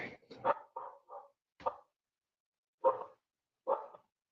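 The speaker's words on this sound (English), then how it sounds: "Dogs are going crazy." Several dogs barking in short, sharp bursts, a quick cluster of barks followed by a pause and then two more isolated barks, fairly close and clear against a quiet background.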